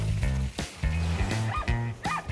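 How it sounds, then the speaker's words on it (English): Sled dogs from a mushing team bark and yip in quick, loud bursts close by, several sharp barks overlapping with whiny yelps between them. "Many, like Nils Hahn, use creative tactics to keep their dog teams in top shape during the off season"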